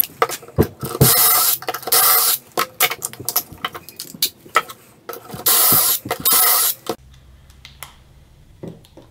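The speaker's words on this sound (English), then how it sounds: "now I'm just going to trim all the legs to their final size" Wooden ottoman legs trimmed to final length with a power saw: several loud bursts of cutting noise, each a second or so, separated by knocks and handling clatter, then quiet.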